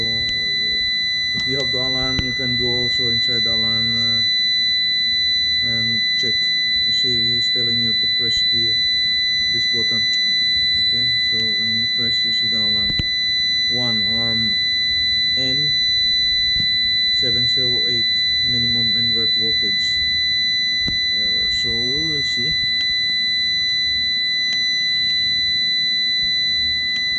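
An Eaton EX 700 UPS alarm buzzer holds a continuous high-pitched electronic tone throughout, while someone talks over it at length nearby.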